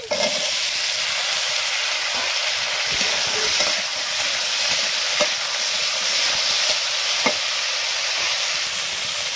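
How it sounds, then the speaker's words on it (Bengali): Chopped vegetables sizzle and fry in a hot wok over bay leaf and fried onions, a steady close hiss with a few soft scraping stirs, and no talk. "এখন দিয়ে দেবো সব কেটে রাখা সবজি।"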